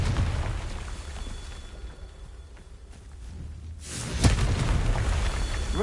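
Confringo blasting curse in Hogwarts Legacy, a whooshing rush that swells into a loud burst and boom near the end, followed by a rumbling tail, alone without talk.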